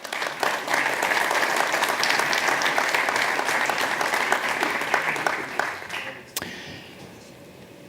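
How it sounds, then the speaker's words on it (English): An audience claps through a futsal championship group draw ceremony, loud steady applause that tapers off near the end before a single sharp knock and quiet room tone. "I think that this deserves a big round of applause."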